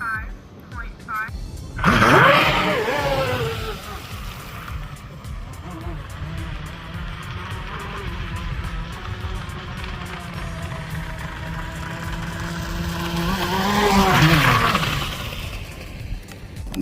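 A 5-foot Oxidean Marine Intimidator stepped RC boat runs on rough water. Its motor gives a high, loud whine that surges close by early on, settles into a steady drone, then swells again near the end.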